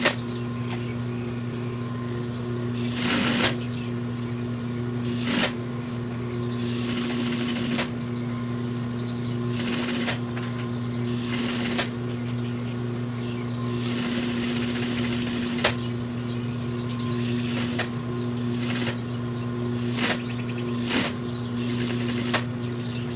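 A sewing machine hums steadily while stitching upholstery for a 1948 Chevrolet rear seat armrest, its motor drone broken by repeated short bursts and clicks as the fabric is fed and stopped.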